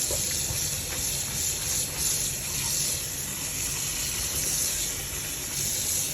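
Hot water pours off freshly cooked spaghetti in a home kitchen, giving a steady, soft hiss and gush of draining water with a faint high whine behind it. The sound runs on without pause and no one speaks.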